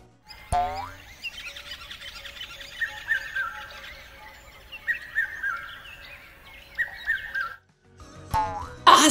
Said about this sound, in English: Now we're going to hear birds singing.